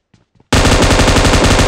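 Rapid automatic gunfire in a mobile battle royale shooter game bursts in loudly after a faint moment of near silence, a dense continuous volley of shots that runs without pause to the end.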